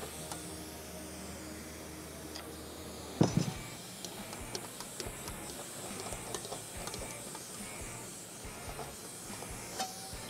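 English wheel rolling sheet metal back and forth in a metal shaping shop, a faint continuous hiss and soft rolling rumble with scattered light ticks and one sharper clank near the start.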